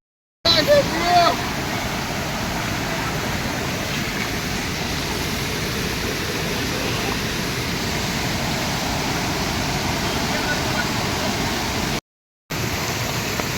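Heavy monsoon rainwater surges down a swollen stream in Konkan, a loud, steady roar of rushing water running throughout with a brief break near the end, voices faintly under it.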